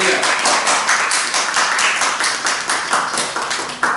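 Church congregation clapping together during a worship service, a dense, steady wash of many hands that carries on at an even level from start to finish.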